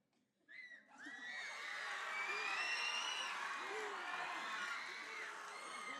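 A crowd at a battle-of-the-bands style contest erupts after a short pause into sustained cheering, whoops and high-pitched shouts that hold loud and steady to the end.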